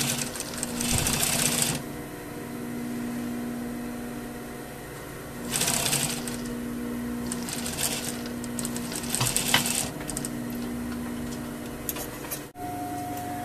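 A sewing machine stitches a seam on a double welt pocket, running in bursts with a steady mechanical whir between louder rattling runs and brief pauses, no talking.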